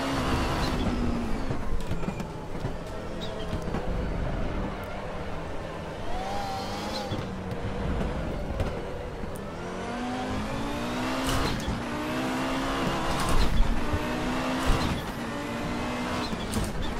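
An Audi 90 IMSA GTO race car in the R3E racing game at the Nürburgring, its engine droning loud and continuous, revving up and down through gear changes for the whole stretch with no talk.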